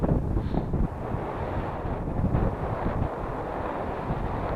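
Strong wind buffets the microphone on a hillside slope during radio-controlled glider soaring, a loud, continuous roar with gusty surges throughout and no talking.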